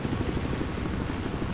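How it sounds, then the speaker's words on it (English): A helicopter in the Battlefield 4 video game, a steady, loud rotor thrum with a dense low chop that holds evenly throughout with no voices. "Oh, hey, look. Helicopter."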